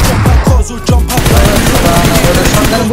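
Rapid gunfire from an AKM and shotgun in the mobile battle royale game BGMI, a loud burst of sharp shots followed by dense sustained firing with game noise throughout.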